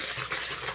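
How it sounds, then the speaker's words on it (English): Banana pumpkin bread batter is stirred by hand in a bowl, a soft, close, continuous scraping swish lasting under a second. "And then I will just stir it by hand until it kind of"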